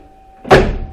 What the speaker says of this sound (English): all of these doors